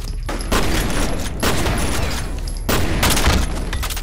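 Bursts of gunfire at an enemy in the FEAR shooter game, loud and close, arriving in several heavy rattling volleys with short gaps between them.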